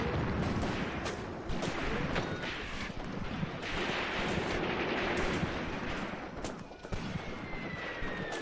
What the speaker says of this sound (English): Is that my artillery or is it theirs?